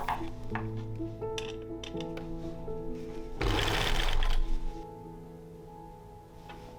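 A sewing machine stitches a dress with an invisible zipper in short start-stop bursts of fast rhythmic clatter, close and clear, with a brief rustle of fabric handling midway.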